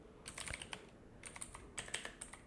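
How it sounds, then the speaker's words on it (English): Light, quick keystrokes on a computer keyboard come in short bursts with brief pauses, quiet and close, with no voices. "you need to open a new tab and type here"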